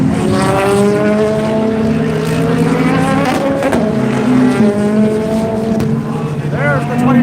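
GT race cars at the Daytona Rolex 24 passing one after another, loud engine notes rising and falling in pitch, with a brief tire squeal and a voice talking over the racing.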